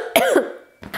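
A woman gives a single close, harsh cough with a voiced rasp, followed by a brief breathy catch of breath a moment later.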